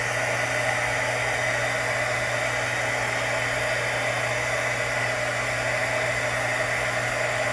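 Heat gun melting embossing powder, a steady, loud blowing hum with a constant tone that runs unbroken throughout, alone with no talking.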